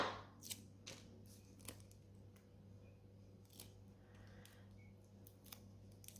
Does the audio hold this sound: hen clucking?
no